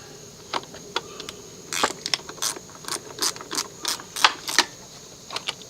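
A ratchet wrench on the 11 mm negative battery terminal nut of a 1983 Mercedes 240D: close, sharp, irregular bursts of rapid clicking, loud and with no voices.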